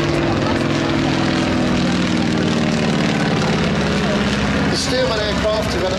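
A Boeing Stearman biplane's 1930s-era radial engine droning steadily at an airshow, a continuous propeller hum with a commentator talking over it throughout.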